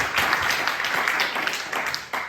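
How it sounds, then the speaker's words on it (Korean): Congregation clapping at a youth church service, a short burst of dense applause from a room of people, fairly close and steady, fading slightly toward the end. "우리 하나님께 영광 박수 올려드리겠습니다"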